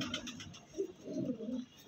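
A pet pigeon coos softly and close by in a couple of low, throaty swells, quiet against a faint background hiss.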